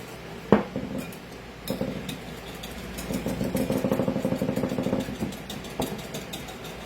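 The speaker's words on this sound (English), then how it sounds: "Gonna mix that up real good." Sugar and cocoa powder being stirred together in a small bowl, a utensil scraping and clinking rhythmically against the bowl in a close, steady burst of strokes with a few sharper knocks before and after.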